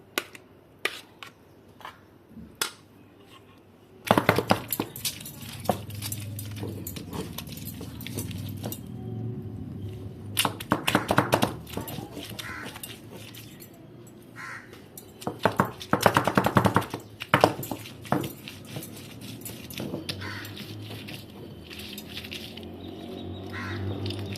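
Spices ground bit by bit on a traditional ammi stone grinder for fish curry, heard as intermittent scraping and knocking strokes, fairly close, in irregular bursts with quieter pauses between.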